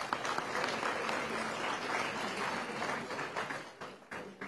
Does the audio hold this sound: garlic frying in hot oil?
no